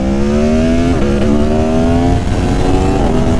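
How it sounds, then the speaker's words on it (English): An Aprilia Tuono Factory motorcycle engine revs loudly and steadily, pitch climbing and dipping in repeated surges, close up with no talking. "this is the first time I've revved the bike out"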